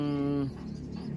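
Racing pigeons entered in a one-loft race: a soft, close, low throaty coo lasting half a second, followed by faint murmuring coos and rustle.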